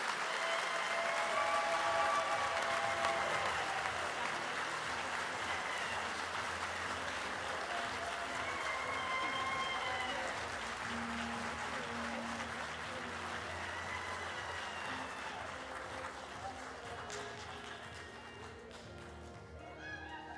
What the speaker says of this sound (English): You don't have to stop clapping